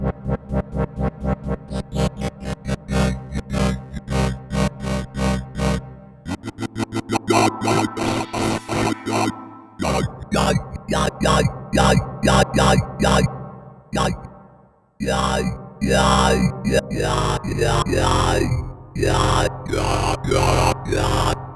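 Synthesizer producing a talking, vowel-like sound through a lo-fi processor on a Roland MV-8000, loud pulsing tones with sweeping formant shapes, broken by brief gaps, with no voices.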